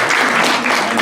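An audience at an innovation challenge final event applauds a judge, a brief, steady wash of clapping at moderate volume.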